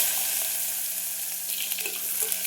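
Sliced ginger frying in hot oil with popped mustard seeds and fenugreek for a dates-and-lemon pickle, a close steady sizzle with light crackles and brief stirring scrapes, no talk.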